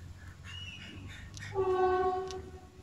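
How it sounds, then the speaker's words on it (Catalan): A train passing along the coast at Calella de la Costa, its horn sounding in a long sustained tone that swells loud near the middle, over a low rumbling background, with no talking. "És el tren de Calella, sí."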